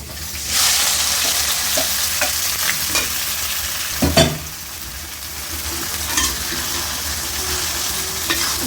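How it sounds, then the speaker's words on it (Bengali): Lentils tossed with golden fried onions in a pan, a spoon scraping and stirring through a steady sizzle, with a few louder clanks of utensil against the pan and no talking. "ডালটাকে 5 মিনিট আমি ভালো করে কষিয়ে নেব।"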